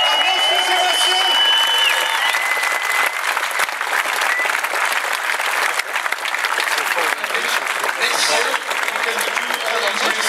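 Crowd at the ADAC Rally Deutschland WRC event gives loud, continuous applause for Sebastian, a thick wash of clapping with some cheering that holds steady throughout.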